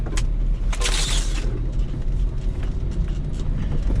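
Jeep with big beefy tires making a tight offroad turn, its low engine rumble steady and close throughout with brief crunching bursts near the start.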